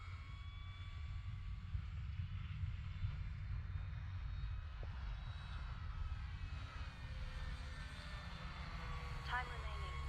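A Dynam BF 109 RC model airplane flies overhead, its electric motor giving a steady, faint, distant drone that holds through the whole stretch without breaks.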